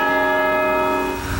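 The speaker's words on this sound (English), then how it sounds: "Now you can hear the bell. It goes off every 15 minutes" The church bell of St Paul Cathedral rings a single sustained, resonant strike, its bright metallic tone humming steadily and ringing on clearly with no voices.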